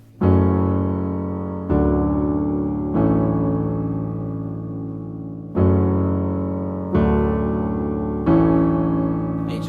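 Solo piano plays the A-Team theme in six loud struck chords or phrases, each ringing out and decaying before the next strike, with no talking.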